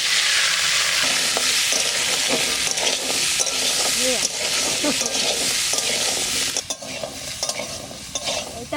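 Vegetables fry and sizzle in hot ghee while being stirred, a steady loud hiss with scraping stir strokes throughout, quieting briefly near the end, for a dry khichdi made with kaon (foxtail millet) rice.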